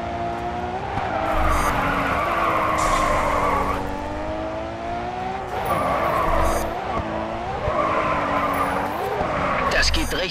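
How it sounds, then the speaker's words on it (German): In the Grid 2 racing game, a car poorly suited to drifting slides with loud, sustained tire squeal over a roaring engine, surging and fading several times. "Das Auto ist nicht fürs Driften geeignet."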